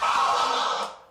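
A single vinyl record scratch on a turntable, a brief bright swish that tapers off within about a second.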